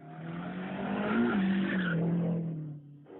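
Race cars roar past close by on a public street course, a loud engine surge swelling with a pitch drop as they pass, then fading quickly.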